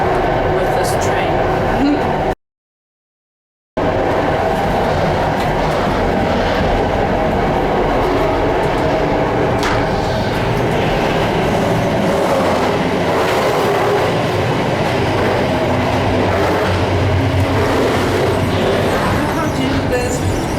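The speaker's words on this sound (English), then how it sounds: "Feels like in the Soviet Union times with this train." An old Soviet-era-style train rolls along the rails in Poland, a steady loud rumble with rattling carriage noise throughout, briefly cut out early, with people talking over it.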